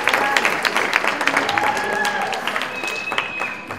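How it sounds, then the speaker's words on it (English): An audience at a salon hair event applauds a group of stylists from Gulfport, Mississippi, with lively, crisp clapping and scattered cheers and voices mixed in, the burst easing slightly toward the end. "Everybody give a round of applause for them"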